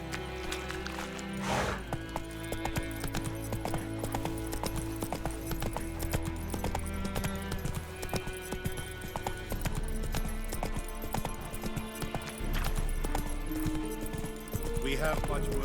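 Horse hooves gallop in The Witcher 3 video game, a steady rhythmic clip-clop running throughout. Speech and other game sounds are mixed in with it.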